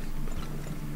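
Horse hooves clip-clop steadily in the oil-drilling strategy game Turmoil, a continuous rhythmic patter over a low background hum, with no talk during it.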